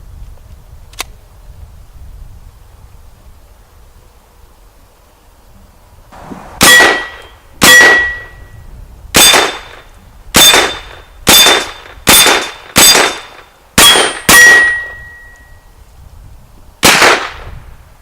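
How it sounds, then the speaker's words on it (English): Rifle shots from a Hi-Point 995 carbine ring off an 8-inch steel gong 40 yards out, about ten sharp loud cracks at uneven intervals, several followed by a short metallic ping, after a quiet outdoor lull. "Clear out at 40 yards is an 8-inch steel gong."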